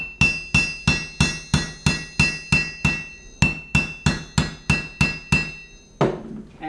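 Hammer blows pound rivets flat on metal scale armor, a steady run of about fifteen close, ringing metallic strikes in even rhythm with a brief pause midway, heard alone.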